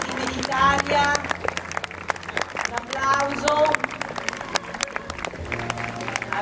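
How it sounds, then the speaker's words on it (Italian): Spectators at an international traditional carriage driving competition applaud in scattered bursts, with an announcer talking over the clapping and horse-drawn carriages moving in the background. "Un applauso."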